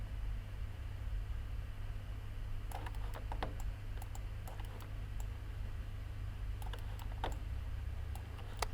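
Computer keyboard shortcut keys pressed while adjusting a brush size in Affinity Photo, heard as bursts of light, quick clicks in two clusters over a steady hum of background noise, with no talking.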